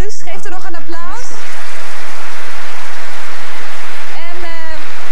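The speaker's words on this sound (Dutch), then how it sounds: "Geef er nog een applaus." A studio audience at the Dutch TV game show Miljoenenjacht breaks into loud, dense applause that fills several seconds, with a presenter talking briefly before and after it.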